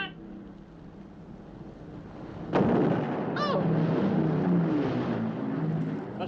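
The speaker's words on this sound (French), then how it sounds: "C'était pas une grenade. C'était une bombe. On nous bombarde!" A bomb explosion in a 1957 war film, a sudden blast cutting through a low rumbling background and leaving a long roaring wash with a falling whistle-like tone, heavy and sustained, with no talking.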